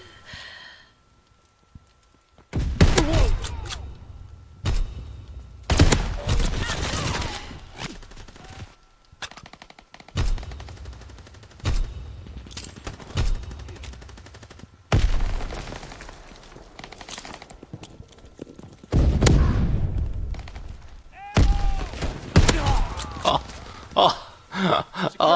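Shotgun blasts from a World War II video game, a series of loud broadband bangs at irregular intervals across the clip, with gaps and lingering reverb between some shots, plus occasional breathing or sighing sounds.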